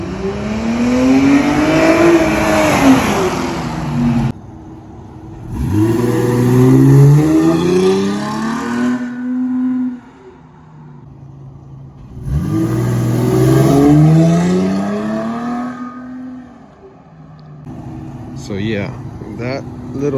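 A Dodge Challenger fitted with a throttle controller pulls away in three strong acceleration runs, each a rising engine roar lasting several seconds with gaps between them, close and loud, followed by a fainter stretch near the end.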